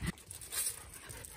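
A dog named Sheila pants in short, soft, breathy bursts close by, quiet and with no one talking.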